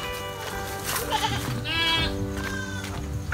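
Goats bleat on a small backyard farm, several wavering cries overlapping in quick succession, close by and fairly loud over a low rustling background.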